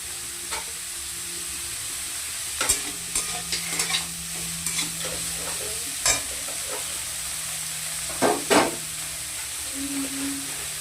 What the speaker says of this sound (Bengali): এখন আমি দিয়ে দিচ্ছি বাঁধাকপি কুচি